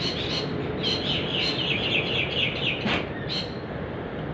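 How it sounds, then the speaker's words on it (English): Two birds call as they fly over, a few short chirps repeated in quick bursts against a steady background hum. "What sort of birds were they that flew over?"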